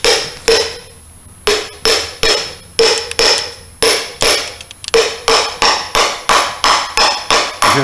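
A new transmission oil seal hammered into its bore with a socket as a driver, giving a close, loud series of sharp metallic whacks in an uneven rhythm, about a dozen blows with short pauses.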